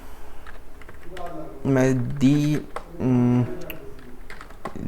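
Typing on a computer keyboard, a steady patter of close key clicks running throughout while someone speaks over it.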